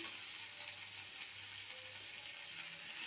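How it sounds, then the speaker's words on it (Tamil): Chicken liver sizzles steadily in a hot pan as it is sautéed, a continuous close frying hiss with faint scraping and no talk. "சிக்கனோட ஈரலை நம்ம சேர்த்துக்கிறோம்"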